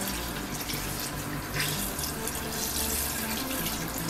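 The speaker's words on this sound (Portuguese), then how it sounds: "vamos colocar a água" Water poured into a pot over browned oxtail during home cooking, a steady loud rushing splash that runs continuously with no talk over it.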